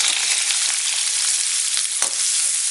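Onion sautéing in oil with whole garam masala gives a steady, loud, close sizzle throughout, with a few soft stirring scrapes breaking through near the end.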